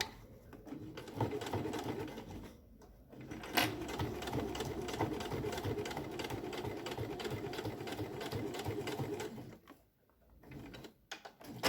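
A sewing machine stitches a seam on a school pencil case, running steadily with a fast, even mechanical rhythm and a few brief pauses, close and clear with no talk over it.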